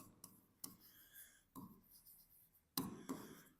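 A teacher writes out an accounts entry for rates and taxes by hand; quiet scratches and taps from the pen arrive in short irregular strokes, close and soft, with no talk.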